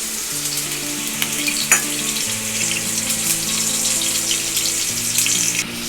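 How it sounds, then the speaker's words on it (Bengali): Chutney sautéed in a pan gives a loud, close sizzle with stirring scrapes, while a low musical tone plays underneath and nobody speaks. "এপাশে আমি একটু চাটনি কষিয়ে দিচ্ছি।"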